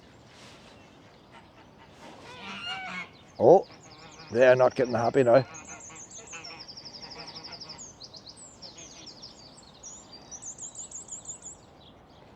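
Small ducks call near the water's edge at Waterfoot in spring, a busy chatter of quacks and chirps with a few louder close bursts, while a person speaks briefly over them.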